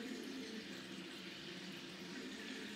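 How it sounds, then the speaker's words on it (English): A tap runs steadily for handwashing, giving a continuous even splash of water into a sink that lasts throughout, with no one speaking. "Now look, I've put on my water and I'm getting my soap."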